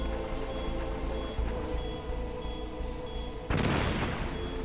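A bomb goes off in the video game Metal Gear Solid, with a sudden loud, broad burst about three and a half seconds in. It rises over continuous game background noise and rumble and stays loud to the end.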